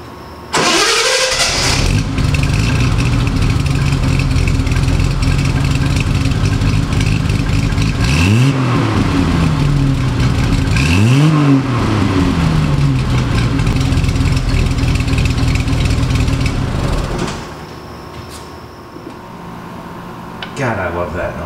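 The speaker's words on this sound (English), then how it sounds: "go ahead and try and start the car" A Triumph TR6 engine cranks and catches, then idles loud and rough with two sharp revs rising and falling before it settles and quiets.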